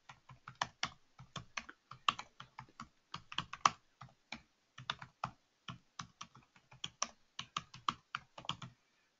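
Rapid typing on a computer keyboard, close and fairly quiet, with irregular bursts of key clicks and short pauses and no one talking.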